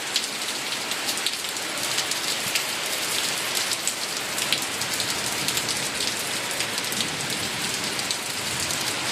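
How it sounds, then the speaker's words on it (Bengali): Heavy rain pours down steadily and close by, a dense unbroken hiss of drops hitting surfaces during a monsoon downpour at a Bengali home, with no voices. "বৃষ্টি করছে, দেখো খুব বৃষ্টি করছে"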